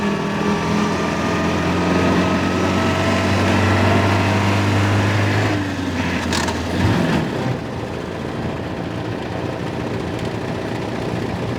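A 1929 Austin 7 Chummy's small engine drones steadily while driving, then its pitch drops sharply partway through as the car downshifts, followed by a brief clunk and a lower, rougher running note.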